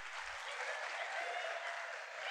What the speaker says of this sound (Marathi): ही बघा पोरं ह्याला टाळ्या वाजवतात